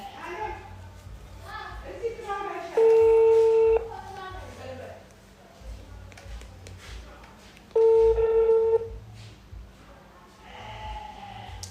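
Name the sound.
telephone being dialed for a call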